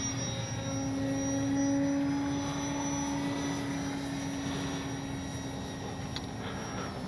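An H-King Kitfox RC airplane flies in to land, its electric motor and propeller giving a steady, fairly loud whine. A sustained tone swells slightly and then eases.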